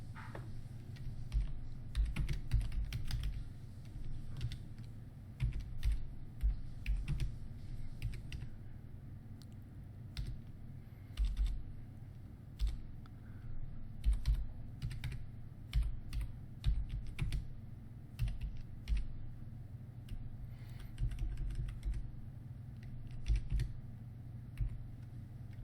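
Steady typing on a computer keyboard as a comment is entered into a web form, with quick irregular key clicks and occasional heavier strokes running continuously at close range, with no talking.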